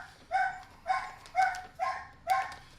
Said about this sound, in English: Barking dogs in the background.